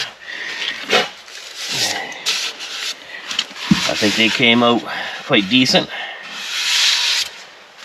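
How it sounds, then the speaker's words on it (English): Repeated scratchy rubbing of sandpaper on plastic speaker pods comes in short strokes, and someone speaks briefly partway through. "you just saw a real quick version of sanding these down"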